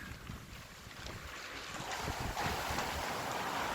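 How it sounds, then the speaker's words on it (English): Strong night wind blowing across moored boats on the water at Varazze, a steady broadband roar rising slightly louder toward the end, with no voices. "Alright, wind's dropping off now, that's good."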